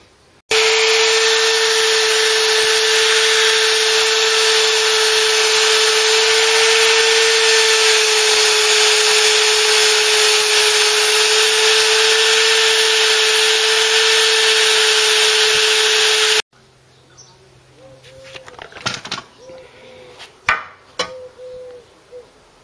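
A power drill bores a hole in the bodywork of a Mk3 Ford Cortina during a classic car restoration, making a loud, steady, high-pitched whine for about sixteen seconds, followed by quieter clanks and handling noises.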